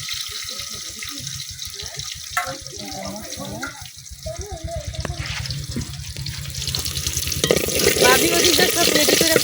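Onions dropped into hot oil in a village kitchen, sizzling and frying with stirring, rising to a louder crackle toward the end, with a steady low rhythmic thumping underneath and no clear talk.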